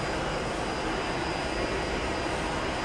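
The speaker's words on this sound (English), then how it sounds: "just listen to that engine change when they go back up now" Antonov cargo aircraft in a flight simulator with a FedEx skin, its jet engines holding a steady, loud, broadband roar while the landing gear retracts, with no voices.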